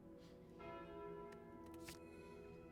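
The Calling Bell relic from the deck-building video game Slay the Spire tolls once, a rich, resonant church-style bell whose sustained ringing decays slowly and quietly, with no talking.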